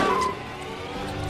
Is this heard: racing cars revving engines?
yes